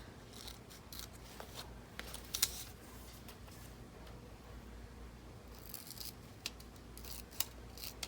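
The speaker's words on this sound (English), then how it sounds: "let's cut this in half" Scissors cutting through a magazine page for a collage, with quiet snips and paper rustles close by in a calm room, a few louder clicks standing out.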